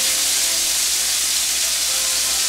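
A pineapple slice coated in al pastor sauce sizzles on a hot pan, giving a steady, close hiss of frying with no voices.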